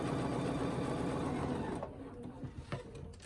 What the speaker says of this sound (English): Now I put the ruler on the previous stitch line, stitch back down,